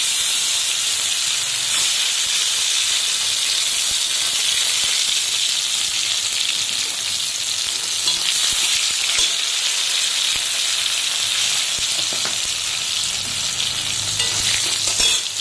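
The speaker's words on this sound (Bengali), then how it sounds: "শুকনো লঙ্কা ফোড়নে দিয়ে দিলাম, তারপরে কালো জিরে, একটু টমেটো কাটা ছিল বলে টমেটো দিয়ে দিলাম।" Dried red chilli, nigella seeds and chopped tomato fry in hot oil, giving a steady, loud sizzle and hiss that runs unbroken throughout, with faint stirring scrapes and no voices.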